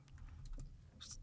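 Rapid keyboard typing during a podcast recording, a quick run of light clicks close to the microphone over a low background hum, with no talk.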